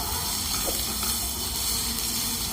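Medium-sized cut potatoes fry in oil in a pan, giving a steady, soft sizzle and hiss that holds level throughout with no talk over it.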